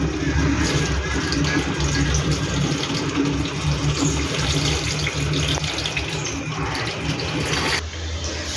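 Tap water runs steadily into a water can, a continuous rushing splash that stays loud and even before shifting slightly near the end.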